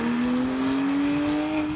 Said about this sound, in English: this one, well, it kind of lets you do burnouts